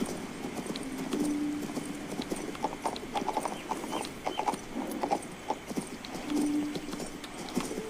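A horse is ridden in the video game King's Bounty 2, and its hooves clip-clop in a quick, uneven rhythm close by, with occasional soft creaks and clatter mixed in.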